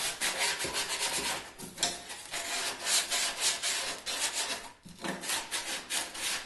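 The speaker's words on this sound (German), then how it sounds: "Dann nehmen wir uns eine Hälfte von dem Schleifpapier, knicken das nochmal durch und schleifen jetzt die Innenkanten ein bisschen rund ab." Sandpaper folded in half rubbing along the inner edges of a wooden cajon, a steady run of rasping back-and-forth strokes close by, with a brief pause near the end before the rubbing resumes.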